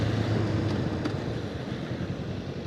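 Honda Rebel 500 motorcycle engine humming steadily after a rev-matched downshift, a low continuous drone mixed with road and wind rush, fairly loud and even throughout with no talk.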